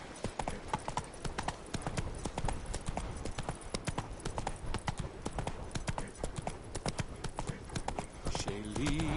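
Hooves clip-clop steadily as a horse gallops through The Witcher 3: Wild Hunt, a fast continuous rhythm of close, loud footfalls running the whole stretch, with a voice briefly heard over it.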